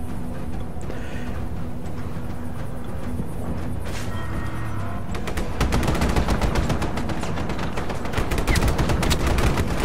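Rapid machine pistol bursts from the video game Just Cause 3, dense crackling automatic fire that builds over a steady rumbling background and grows louder and more continuous in the second half.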